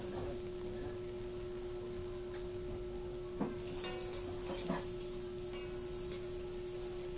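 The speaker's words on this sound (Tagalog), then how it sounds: "Susunod ko na yung sibuyas." Onions sautéing in hot oil in a pan, a soft continuous sizzle with a steady background hum and a couple of faint stirring clinks, quiet and without talk.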